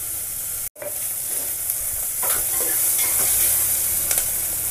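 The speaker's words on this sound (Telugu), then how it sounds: "కట్ చేసి పెట్టుకున్నటువంటి క్యారెట్, ఆనియన్, పచ్చిమిర్చి అయితే వేసేసుకున్నాను" Chopped carrot, onion and green chilli fry in hot oil with seasoning seeds in a pan, giving a steady close sizzle with light stirring scrapes throughout.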